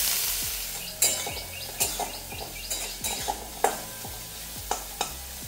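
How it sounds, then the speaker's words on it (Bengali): Fish frying in a pan while a metal spatula stirs and scrapes, sharp clinks and scrapes landing about once a second over a continuous sizzle. "মাছগুলো ভাজা হচ্ছে ভালোভাবে হবে"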